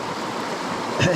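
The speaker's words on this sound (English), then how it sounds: "So you can see all this heavy water" Fast, heavy river water rushing through a trout fishing stretch, a loud, steady broadband roar that fills the whole moment, with a slightly louder surge near the end.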